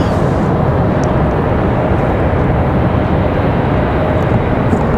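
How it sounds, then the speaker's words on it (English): A Lufthansa Airbus A330 airliner comes in to land at Raleigh-Durham International Airport, giving off a loud, continuous broadband jet roar that holds steady throughout with no voices. "So we'll get ready for that A330. A330 coming in hot."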